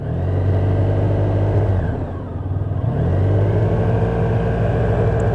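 Motorcycle engine revving up under throttle, a loud close rumble that eases off briefly and then builds again, steady and droning, with no voices.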